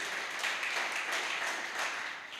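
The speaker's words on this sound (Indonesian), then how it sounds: "Kasih tepuk tangan bagi Tuhan." A church congregation at a Sunday worship service claps together, a steady moderate wash of applause that holds evenly for a couple of seconds with no talk over it.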